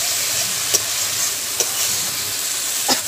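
Spice paste frying in oil in a pan for a Bengali rui and katla fish-head curry, a steady close sizzle with a few soft stirring scrapes spaced through it.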